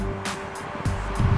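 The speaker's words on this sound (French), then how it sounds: "On est à la fin de cet essai au volant de notre coccinelle Dune" A Volkswagen Beetle Dune convertible with a triple-layer soft top is driving, a steady low engine and road rumble swelling with repeated whooshes of wind noise, close and continuous.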